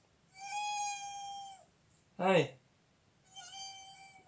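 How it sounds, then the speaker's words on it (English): A pet cat gives two drawn-out, steady meows, fairly close, with a short spoken greeting in the pause between them. "Hi, kitty!"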